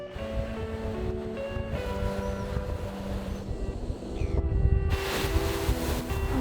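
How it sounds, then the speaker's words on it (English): Strong gale-force wind roars across the microphone outdoors in New Zealand in heavy gusts, buffeting loudly and building toward the end. "it's blowing a bloody gale out there"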